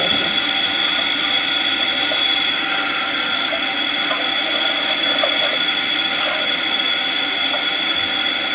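Running tap water washing rice in a kitchen, a steady loud rushing and splashing that continues without pause throughout.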